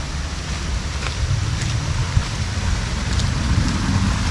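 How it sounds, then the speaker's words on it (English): Steady broadband rush of water at Jhor waterfall, a continuous dense roar with no clear breaks, fairly loud and close, and no voices over it. "This is the waterfall."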